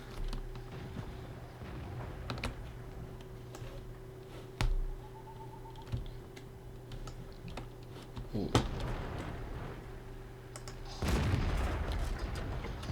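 Heavy cannon shots from an SU-85 Tier VI tank destroyer in World of Tanks, a few sharp booms spaced seconds apart over a steady low engine drone, the last one followed by a longer rumbling burst.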